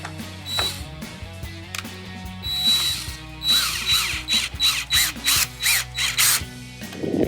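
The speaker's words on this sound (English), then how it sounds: "Take your drill, make sure you set it real sensitive so it doesn't spin these out" A power drill set to low clutch sensitivity drives screws while installing a Raxiom LED third brake light on a Jeep Wrangler JK, giving short, close whirring and ratcheting bursts in a stop-start rhythm, several in quick succession near the end.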